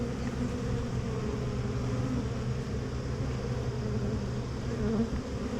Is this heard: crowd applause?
no